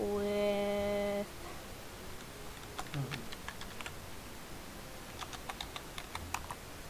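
Typing on a computer keyboard to enter a name in the game Slay the Spire: a quick run of light, irregular key clicks at close range, with short pauses between bursts and a steady tone holding at the start.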